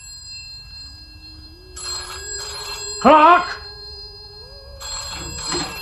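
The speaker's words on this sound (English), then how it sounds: "Answer that bloody phone!" An old-style telephone bell rings in bursts in a tense indoor scene, with a sharp shout of a voice cutting across the middle of the ringing.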